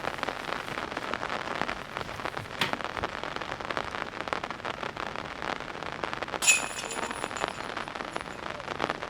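Rain patters steadily across an outdoor disc golf course during a Southern California tournament round, a dense, even hiss of drops with no voices, and one slightly sharper tap midway.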